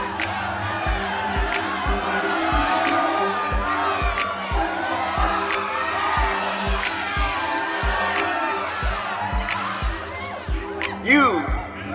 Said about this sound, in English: The crowd goes crazy at the president's words.